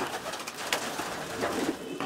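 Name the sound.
pigeon cooing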